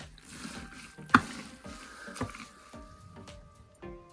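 A paddle stirs crushed blue grapes in a barrel for homemade red wine, making wet squelching sloshes with a few sharp knocks against the container, close and moderately loud.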